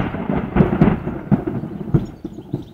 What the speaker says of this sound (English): Maybe it's just a thunder and lightning show that we're gonna get.